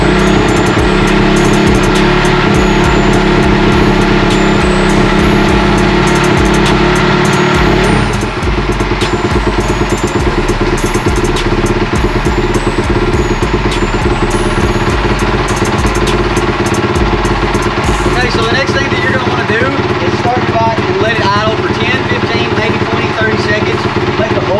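Dirt bike engine held at fast idle with its oil warming up, a loud steady close thrum with rhythmic low pulsing and mechanical clatter, a voice talking over it.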